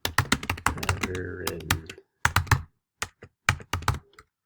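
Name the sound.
typing an essay on a computer keyboard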